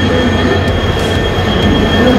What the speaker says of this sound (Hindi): हम पहुंच चुके हैं मंडोर एक्सप्रेस पे और अब हम चलते हैं अपनी जर्नी स्टार्ट करते हैं।